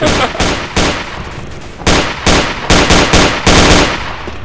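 Rapid bursts of gunfire from Day of Defeat: Source, loud sharp rattling volleys in quick uneven clusters with brief pauses between, close and dominant throughout.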